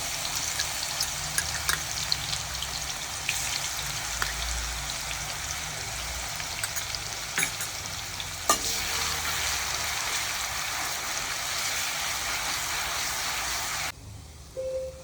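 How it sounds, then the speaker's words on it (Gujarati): Ginger, chili and garlic paste fries for potatoes in a pan, a continuous close sizzle with scattered pops and stirring scrapes, cutting off abruptly near the end. "હવે આપણે બટેટા માટે આદુ, મરચાં, લસણની પેસ્ટ."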